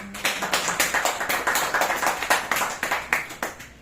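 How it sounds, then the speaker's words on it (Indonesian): A seminar audience claps their hands together in a fast, steady rhythm of sharp, close slaps that keeps going for nearly four seconds without talk. "Kalau setuju tepuk tangan."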